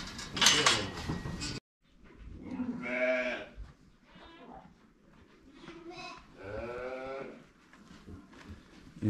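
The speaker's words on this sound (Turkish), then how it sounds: "bunlar en son olan kuzularımız" Young lambs bleating while nursing in a farm pen, several loud quavering bleats close by in a row, with brief clatter and faint talk between them.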